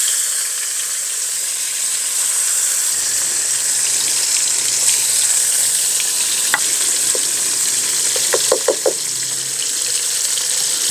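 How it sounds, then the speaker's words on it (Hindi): Tomato halves sizzle in hot oil with nigella seeds and cumin while cooking for a chutney: a steady, close frying hiss throughout, with a few light utensil clinks near the end. "दो मिनट हम टमाटर इस साइड से पहले इनको फ्राई करेंगे"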